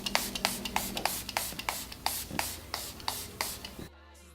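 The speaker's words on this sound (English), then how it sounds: "To set my face, I'm going to be using the Milani Dewy Mist Make It Last spray." Quick bursts of Milani Dewy Mist Make It Last setting spray misted onto a face repeat in a steady rhythm, about a dozen short hissing puffs close by, then stop abruptly.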